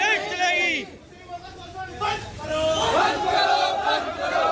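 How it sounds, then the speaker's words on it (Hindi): An angry protest crowd in Uttarakhand chants slogans. A dense mass of raised voices stays loud and continuous, with rhythmic shouting rising and falling throughout. "जहां आक्रोशित भीड़ नारे लगा रही है कि मुस्लिमों का शोषण बंद करो"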